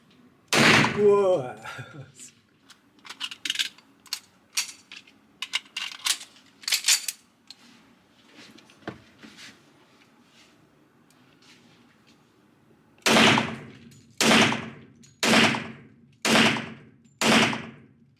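Gunshots ring out at a resort shooting range: sharp, loud single reports, a scattered run of shots early on, then five evenly spaced blasts close together at the end, with people talking between them.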